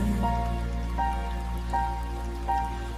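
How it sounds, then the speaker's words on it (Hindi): Raindrops fall and patter steadily beneath a soft lofi music bed, with a low hum throughout and gentle tones recurring at regular intervals. "कभी बारिश की बूंदें गिरती हैं"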